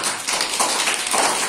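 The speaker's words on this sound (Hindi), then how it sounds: "अरे वाह, ताली बजाओ उनके लिए।" Children in a primary school classroom clap together for a classmate, a dense, steady patter of many small hands lasting under two seconds, close and fairly loud with no talking over it.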